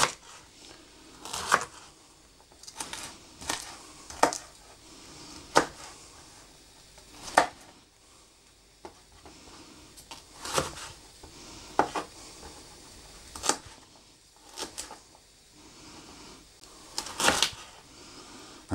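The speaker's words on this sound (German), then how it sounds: "ein bisschen Weißkohl haben wir noch zum Schneiden" A knife chops white cabbage on a board in a home kitchen, giving irregular sharp thuds and crunches spaced a second or two apart over faint background noise.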